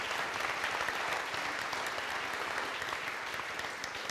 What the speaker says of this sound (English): Please give them a massive round of applause for putting this together.